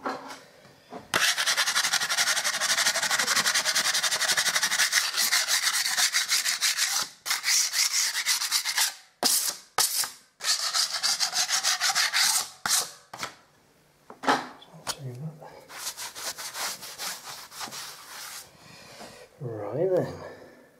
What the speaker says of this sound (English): Well, it needs a bit of a scrape there.